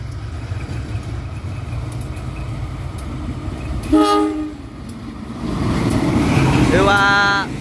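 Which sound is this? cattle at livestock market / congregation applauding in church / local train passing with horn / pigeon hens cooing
local train passing with horn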